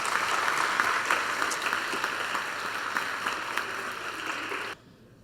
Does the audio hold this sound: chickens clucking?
no